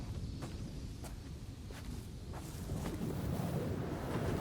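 Wind in the video game Dear Esther, a steady low rushing gust that builds slightly toward the end, with faint soft thumps underneath and no talking.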